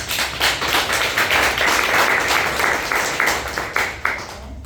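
A church congregation claps during a worship service, giving dense, loud and sustained applause with some sharper individual claps standing out near the end.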